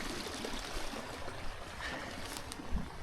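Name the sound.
stream of water flowing underneath the footpath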